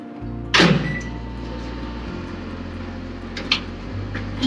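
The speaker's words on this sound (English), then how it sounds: "I'm going to microwave this for 20 seconds to melt it." A microwave oven heats a cup of milk poured over butter, starting with a sharp click, then a steady low hum that shifts pitch partway through, with a few faint clicks near the end.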